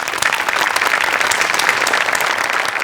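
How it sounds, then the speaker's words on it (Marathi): A studio audience at a Marathi comedy sketch show applauds steadily, a dense, loud wash of many hands clapping that holds evenly throughout without pause. "धनंजय, तुझ्याकरता एकदा टाळ्या."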